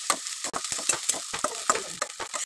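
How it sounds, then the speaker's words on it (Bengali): Chopped onions and cumin fry in a pan, sizzling loudly and close while a utensil stirs and scrapes in repeated strokes. "কুচি করে পেঁয়াজগুলো ভেজে নিয়ে একটু জিরা দিয়ে আবার ভালো করে ভেজে নিলাম"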